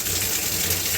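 Water runs steadily and loudly from a Moen faucet, a continuous rushing gush with no break through the short stretch.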